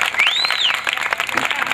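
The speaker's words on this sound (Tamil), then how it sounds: "என்று எல்லோரும் கைதட்டுங்க." Applause from a crowd at a temple kodai festival function in Megnanapuram, steady dense clapping throughout with a brief whistle-like tone rising over it.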